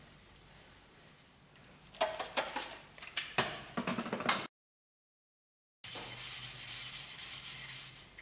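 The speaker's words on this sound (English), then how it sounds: "let's go to the last stone, 4000 grit stone" A steel scraper blade rubbed back and forth on a 4000 grit sharpening stone, giving soft rhythmic scraping strokes for a couple of seconds, then a gap of silence followed by a steady hiss.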